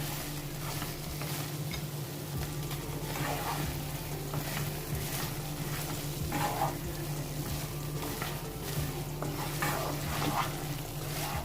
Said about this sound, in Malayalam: പുഴുങ്ങിയ മുട്ട ഇതിലേക്ക് ചേർത്ത് കൊടുക്കാം മുട്ട ഒന്ന് വരിഞ്ഞു കൊടുത്തു കഴിഞ്ഞാൽ മസാലയൊക്കെ നന്നായിട്ട് ഉള്ളിലോട്ട് പിടിച്ചോളും